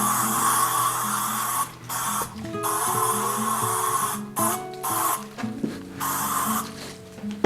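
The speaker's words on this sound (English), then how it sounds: "I'm gonna use Behold Furniture Polish, and we just spray it all over the place" Long hissing sprays of Behold furniture polish from an aerosol can onto a Trek Neko bicycle, several bursts with short pauses between, close and loud, over a faint low hum.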